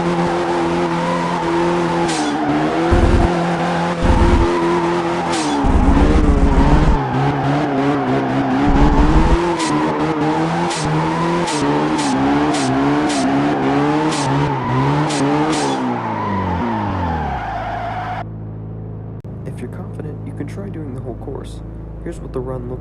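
Racing-game car drifting through a fast-entry, decreasing-radius corner at Ibisu Drift Stadium in Assoluto Racing: a loud, continuously revving engine climbs and falls in pitch, with tire squeal and skidding throughout before the engine note drops off near the end.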